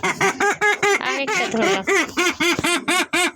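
Pet birds call close and loud in a rapid run of about a dozen nasal, honking quack-like cries, with a few overlapping calls bunched together in the middle.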